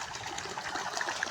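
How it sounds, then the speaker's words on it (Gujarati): Warm water gushes steadily from a motor-driven pump at a home in the morning, a close, continuous rushing and trickling flow with no voices. "મોટર ચાલુ કરી દઈશ તો મસ્તનું જો પાણી આવે છે ગરમ ગરમ"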